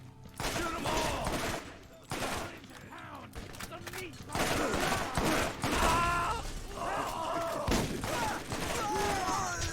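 Dense, loud gunfire from the video game Borderlands: rapid volleys and sustained bursts fill the whole stretch, with game character voices and groans mixed in over the shooting.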